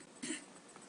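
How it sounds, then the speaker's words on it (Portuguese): A single short, faint throat clearing from a Portuguese-speaking man, brief and isolated in a quiet room. "desculpem o pigarro"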